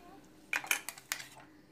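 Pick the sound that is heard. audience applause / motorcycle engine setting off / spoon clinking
spoon clinking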